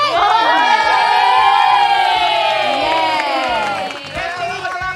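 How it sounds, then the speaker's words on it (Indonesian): A large crowd at a school event erupts in loud, sustained cheering and shrieking for the idol group JKT48, with excited young voices shouting over one another. "Tepuk tangan untuk JKT48"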